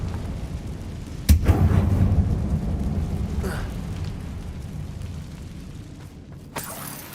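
Confringo blasting spell bursting in Hogwarts Legacy: one sharp, loud boom with a deep rumbling tail, followed later by a fainter second impact amid low game ambience.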